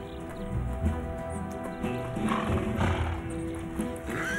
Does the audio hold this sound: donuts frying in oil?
no